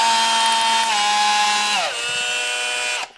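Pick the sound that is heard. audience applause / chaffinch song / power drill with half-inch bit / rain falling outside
power drill with half-inch bit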